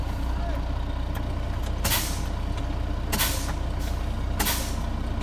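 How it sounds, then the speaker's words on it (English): A truck's air brake system, with the brakes applied and air pressure bled down, releases three sharp, loud hissing bursts of air over a steady engine rumble. "So right now I'm gonna hit the brakes and I'm gonna let this down."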